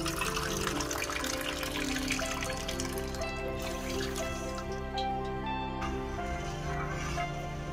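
Water poured into sugar for gulab jamun syrup, a soft continuous trickle and splash that stays steady throughout, faint beneath a humming tonal background.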